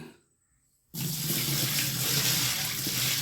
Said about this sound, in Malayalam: ഇതിനകത്തുള്ള വെള്ളം കംപ്ലീറ്റ് ഒഴിവാക്കാൻ പോവാണ്